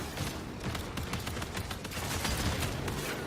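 Dense, continuous automatic weapon fire from the sci-fi shooter game Marathon, with rapid overlapping shots forming a loud, steady barrage throughout.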